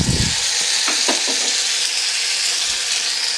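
Tomato paste and three chopped green chillies fry in a pan with a loud, steady hiss and sizzle, a few spatula scrapes early on, heard up close with nobody speaking.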